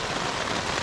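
Rain falls steadily at a summer motorcycle campsite in France, a dense even patter on the ground and gear, close and constant with no talking.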